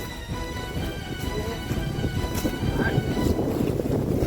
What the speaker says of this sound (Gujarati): ઓય હારો વાયરો આવે છે, જુઓ ખાલી